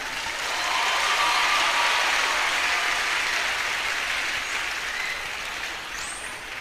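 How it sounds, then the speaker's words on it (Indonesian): Steady applause from a large crowd at an Islamic religious sermon gathering, a dense wash of clapping that swells briefly then slowly fades. "Tepuk tangan ya tepuk tangan"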